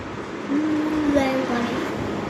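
A child imitates a train with a drawn-out, rising and falling vocal hum, fairly quiet and brief.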